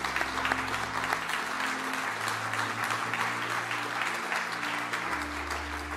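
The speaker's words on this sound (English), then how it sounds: "Would you clap your hands for those who said yes to Jesus?" A church congregation claps their hands together in sustained, dense applause that fills the whole stretch at steady volume, over a low held tone from the worship setting.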